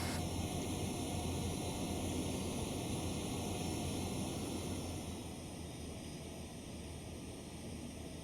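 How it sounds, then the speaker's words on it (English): Cabin drone of a Boeing 767-300ER airliner descending in the X-Plane 11 flight simulator, a steady broadband hiss and rumble with faint high whines, holding level and easing slightly quieter toward the end. "Yeah, I love the sounds of this airplane."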